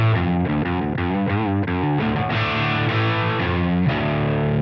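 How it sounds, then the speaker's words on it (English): Electric guitar played through a non-high-gain amplifier's distortion channel, giving a crunchy, fuzzy overdriven tone; sustained chords and notes ring loud and continuous throughout with no talking. "So this is basically the distortion of this amplifier."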